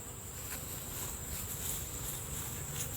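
Honeybees drone in a steady, close buzz while a nuc hive is opened for inspection, with a continuous hum and no voices throughout.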